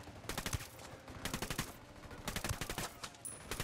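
Rapid bursts of video game gunfire in Ghost Recon Wildlands crackle in quick succession, several volleys of automatic shots with sharp individual pops, fairly distant and steady.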